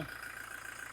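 Steady low idle of a Toyota Fortuner 2.4 diesel engine (2022, 4WD) with an even, rumbling pulse, close and moderately quiet, running without change throughout.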